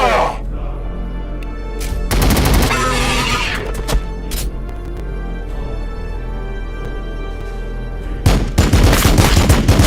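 A gunfire volley erupts in the video game Warhammer 40k Battle Sector as rapid bursts of shots crackle loudly, with dense battle noise throughout and a fresh burst near the end.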